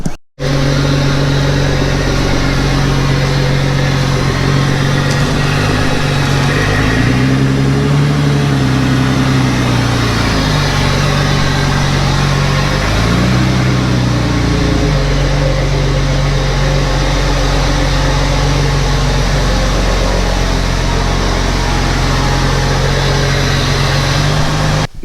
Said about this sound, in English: So let's pull this Jeep in and start on this.